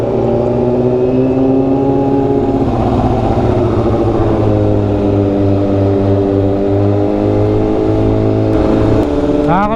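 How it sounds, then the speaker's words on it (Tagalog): An R6 sport motorcycle is ridden through traffic around Dagupan, its engine rising and falling in pitch as it revs and shifts, loud and close with wind rush and a brief rev burst at the end. "Nakakamiss talaga magmotor no."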